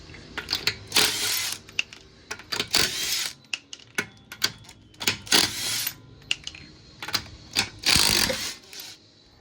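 Loosened wheel lug nuts being spun off a 2019 Subaru Forester with a 19mm socket, with bursts of rapid mechanical ratcheting and whirring in repeated spells, close and fairly loud.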